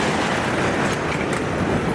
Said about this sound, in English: one of the trains started moving!